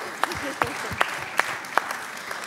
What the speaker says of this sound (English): Round of applause for our panelists, please.